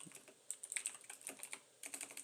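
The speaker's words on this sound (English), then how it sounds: "Forgive my loud keyboard." Loud computer keyboard typing during a live game-development stream, with quick bursts of clicky keystrokes in an irregular rhythm, close and alone with no talking.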